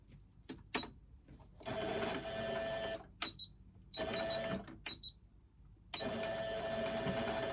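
A sewing machine stitching fabric for a small scrap-fabric key fob, running in three bursts with brief backstitches and pauses between them, close and steady, with no talking.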